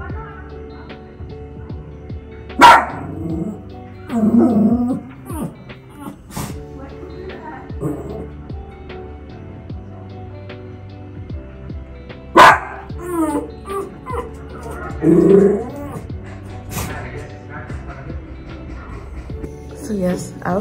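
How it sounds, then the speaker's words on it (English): A dog barks in sharp single yaps at intervals, with whimpering between them, over a steady background hum indoors. "So maybe he is barking at something for once."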